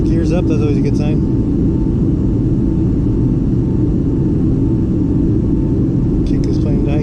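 Airplane engine in flight over Antarctica, a steady loud rumbling drone that continues unchanged the whole time, heard from inside the cabin with brief faint clicks near the start and end.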